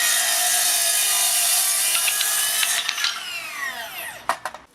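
A Makita 40V cordless circular saw cutting through several stacked pieces of wood in one pass, a loud steady high-pitched whine that runs for about three seconds before the blade spins down with a few clicks and knocks.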